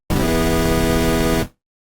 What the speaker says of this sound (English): So far that synth patch now sounds like this.